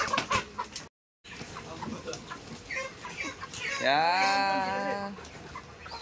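Broiler chickens cluck in a coop after harvest, scattered clucks and calls under nearby talk, with a longer drawn-out call near the end.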